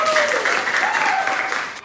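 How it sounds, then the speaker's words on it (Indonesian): Classroom applause from an eighth-grade maths class, a steady wash of many hands clapping together right after the teacher's call, nearby and fairly loud throughout, with voices faintly mixed in. "Tepuk tangan buat"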